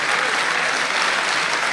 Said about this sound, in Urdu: تالیاں بجائیں